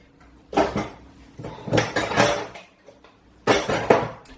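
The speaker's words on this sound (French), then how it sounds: "Donc je vais lui couper son kiwi, lui mettre dans son petit bol," Cut yellow kiwi pieces are placed into a small bowl with a fork, producing three bursts of clinking and scraping tableware, close and fairly loud, separated by short quiet gaps.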